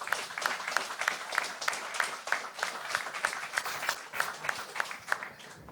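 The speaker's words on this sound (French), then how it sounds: "On peut l'applaudir." At a Tsume live show, a small audience claps for guest Faf Larage, with rhythmic, fairly even claps, some sharper individual ones standing out, at moderate loudness.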